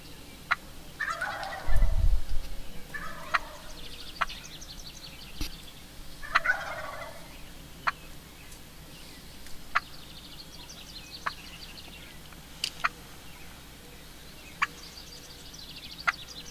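A wild turkey hen in Nebraska yelps in loud raspy bursts, calling several times in a series, with sharp clicks and small bird chirps scattered through the quiet background.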